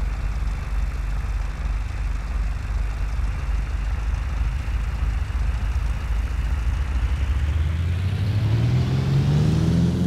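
An aircraft engine runs at full power during takeoff, a loud, steady droning roar whose pitch climbs toward the end as the plane gathers speed, with no voices.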